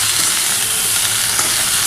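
Poppy seed paste frying in a pan while being stirred, a loud, dense and continuous sizzle with a steady hiss that carries on without a break for the whole short stretch.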